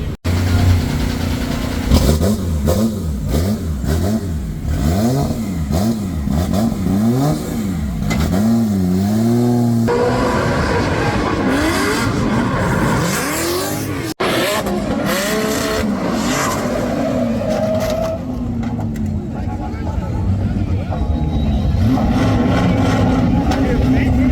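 A Formula Drift car on a practice run roars loudly, its engine revving up and down in rapid swings with tire squeal as it slides, continuous and close, with no talk.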